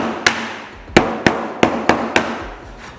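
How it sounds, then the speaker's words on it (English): Six sharp, evenly spaced knocks of a hammer striking a block to tap plywood surfboard planks together, close and alone with no talk. "get a little bit of a persuasion device, hammer and a block, and just give it a little love tap"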